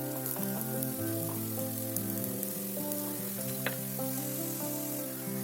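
Nool paratha, a flaky layered flatbread, sizzles steadily in oil on a hot pan, a constant close frying crackle with faint clinks, no talking.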